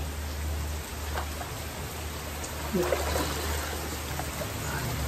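Steady rain hisses continuously in the background, a soft broadband wash with no clear pauses, with a low hum underneath.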